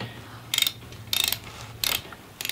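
A ratchet wrench works on a bolt of a Ford three-speed top-loader transmission, close and crisp, with four short bursts of rapid clicking separated by brief pauses over a low background hum.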